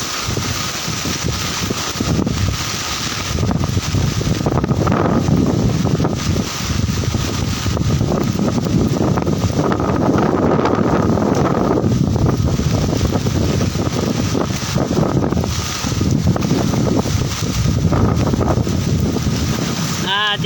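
Loud, sustained wind buffets the microphone during rain and a surging flood tide on Hatiya island in Bangladesh, rushing without pause, with a person talking intermittently underneath.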